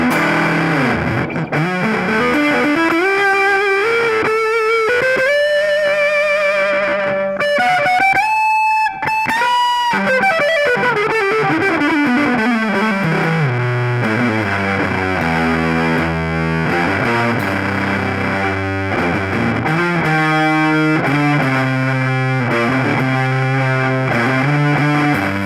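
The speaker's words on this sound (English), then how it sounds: "It's a great sounding classic sort of fuzz. Let's go ahead and crank it all the way up." Electric guitar through a classic fuzz pedal cranked all the way up, thick saturated notes with bending, sliding pitch lines and sustained chords, loud and continuous with no talking.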